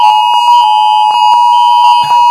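Fire alarm going off indoors, a loud continuous piercing electronic tone held steadily throughout, with brief noises overlapping it and a short clattering sound near the end.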